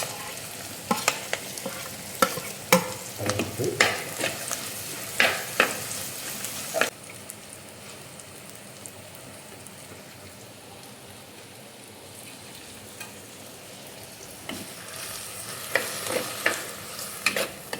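Ground masala paste frying in a pan with curry leaves and green chillies, a steady sizzle broken by scraping stirs that come in short clusters and then a long quieter stretch of frying alone.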